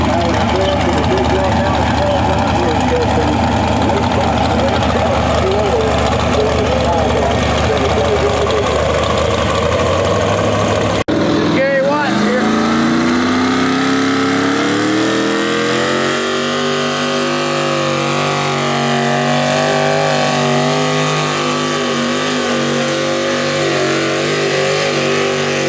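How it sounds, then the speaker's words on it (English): A tractor engine at a county fair tractor pull, a low heavy idle that shifts into a rising, revving roar partway through and stays loud and close, with someone talking over the engine. "this tractor was his old tractor, but he now has that one right there with the Ford Emblem on it"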